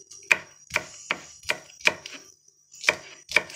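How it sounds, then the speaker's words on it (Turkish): A knife chops sharply through meat on a board, cutting it into large chunks, seven crisp thuds in an uneven rhythm, close and clear with no talking. "Şöyle biraz iri doğrayalım da iri olsun"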